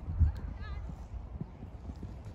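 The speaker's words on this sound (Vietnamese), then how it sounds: "Nhanh chân ngựa kìa." Horse hooves clip-clop along a quiet country lane in rural France on a cold autumn day, a steady run of close, moderately loud hoofbeats with people talking over them.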